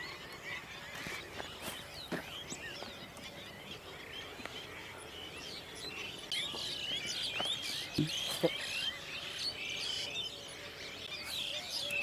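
Birds chirp and tweet in scattered bursts outdoors, faint and at a distance, over a quiet ambient background.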